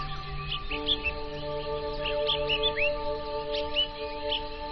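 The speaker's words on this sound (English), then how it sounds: "all you can hear are the sounds of your own footsteps and the birds chirping in the distance" Birds chirp and tweet in scattered short calls on a mountain at sunrise, fairly faint and distant over a steady hum.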